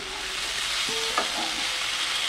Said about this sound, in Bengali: মাছের মাথা দিয়ে আরো ভেজে নেব।